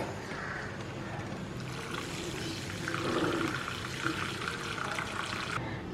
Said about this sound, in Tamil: இப்போ வந்து நம்ம எக்ஸ்ட்ரா அந்த வச்சுருக்கிற பால் எல்லாத்தையும் ஊற்றிடுவோம்